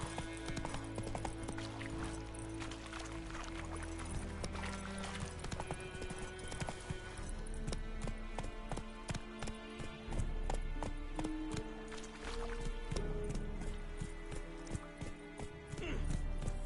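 A horse gallops in The Witcher 3 on PS5, rapid rhythmic hoofbeats pounding steadily under game music, with a voice briefly speaking partway through.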